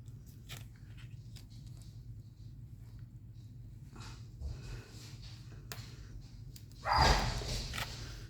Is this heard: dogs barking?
yes